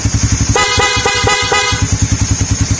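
A Suzuki Raider R150fi motorcycle horn beeps in four quick bursts over the steady putter of an idling engine nearby.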